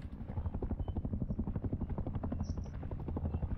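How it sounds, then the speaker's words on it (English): An airdrop airplane flies over in Rust, a loud, steady, throbbing engine drone with rhythmic pulsing that holds throughout, with no voices. "But this airplane just did an airdrop"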